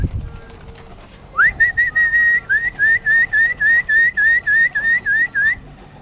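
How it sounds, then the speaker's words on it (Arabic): A person whistles to call pigeons at feeding time, a near, loud series of about a dozen short rising whistle notes in a steady rhythm, following a soft rustle at the start. "اطلع اكلفهم نصفر لهم كده"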